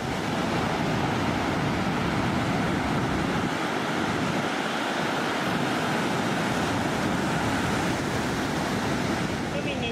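Steady, loud surf of ocean waves breaking along a Gold Coast beach during lockdown, a continuous wash of noise with gusts of wind buffeting the microphone throughout.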